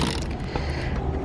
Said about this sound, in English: Liam's changing out the line on his fishing reel. That's what that noise is